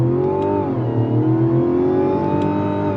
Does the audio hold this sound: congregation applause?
no